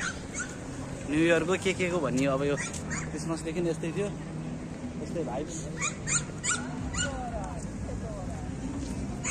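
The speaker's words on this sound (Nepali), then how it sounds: "सानो कुकुर कराइरहेको छ त" A small dog barks, yips and whimpers in short high-pitched bursts in Croatia on a new year's night, heard under a person talking nearby.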